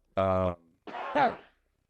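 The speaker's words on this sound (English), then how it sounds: "I'm gonna cough real quick" A brief voiced grunt, then a rough, throaty cough up close, fairly loud, followed by silence.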